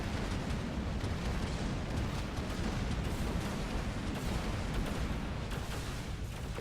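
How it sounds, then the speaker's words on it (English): Flak weapons firing during a space battle in X3: Terran Conflict, a dense continuous roar of overlapping blasts and rumble, steady and loud throughout with no pauses. "at least those flak weapons that went off weren't deafening"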